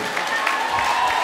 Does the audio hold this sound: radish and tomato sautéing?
no